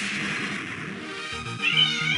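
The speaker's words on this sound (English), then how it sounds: "The cats are being cats at each other again." Two house cats fight in close, overlapping yowls and meows, a drawn-out tense caterwaul that swells louder near the end, with no talking.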